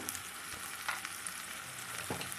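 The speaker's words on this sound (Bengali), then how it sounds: "মশলাটা ভালো করে পেঁয়াজ টমেটো রসুন আদার সাথে কষবে ভালো করে" Spices frying in a pan with onion, tomato, garlic and ginger for chicken biryani, a steady close sizzle with soft stirring scrapes throughout, no voices.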